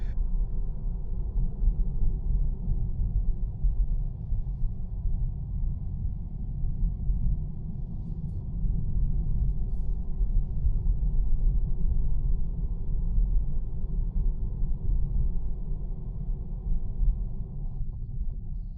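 A stationary 2026 Tesla Model 3 Highland Long Range rear-wheel drive sits parked with its air conditioning running, giving a steady, even low hum and rumble throughout with no voices.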